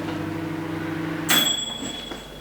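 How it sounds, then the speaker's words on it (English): A kitchen microwave oven hums steadily, then gives a single sharp, ringing ping that lingers and fades, close and clear with no speech. "ping, that was the microwave."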